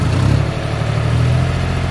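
A John Deere 5050D tractor pulls an 8×8 disc harrow across a wet field, its engine droning steadily and loudly at a constant working load with a low, throbbing rumble and no voices.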